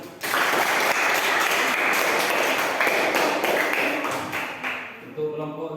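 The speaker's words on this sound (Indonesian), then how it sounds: "Tepuk tangan untuk kelompok 1." Classroom applause for a student group, dense steady clapping from many hands filling most of the stretch before fading out near the end.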